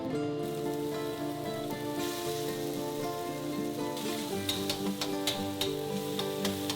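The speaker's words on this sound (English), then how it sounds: "In a separate wok over medium-high heat, add oil and saute the blended ingredients." Blended curry ingredients sautéing in oil in a wok over medium-high heat for Malaysian curry beef brisket, a steady crackling sizzle under background music, with sharper spatters toward the end.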